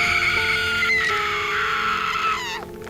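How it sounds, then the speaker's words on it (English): A character named in a Lana doppelganger game lets out a long, sustained, high-pitched synthesized scream that wavers and bends before cutting off abruptly near the end, loud and close over a constant tonal game drone, no talking. "we hear bones crushing and the noise of Nelly screaming"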